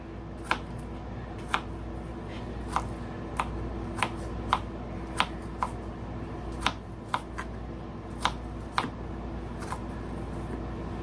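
A knife slicing across onion on a cutting board, giving a run of sharp, evenly spaced chops, about a dozen distinct taps, close and clear over a quiet background.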